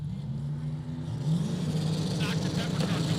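A turbocharged, LSX-swapped 1999 Mustang drag car rumbles at the starting line of a drag racing event, its engine a steady low drone that lifts midway, with announcer talk over it.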